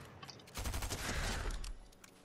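A burst of rapid gunfire in the video game Fortnite, a dense volley of shots lasting about a second, loud against quiet surroundings, with no one talking.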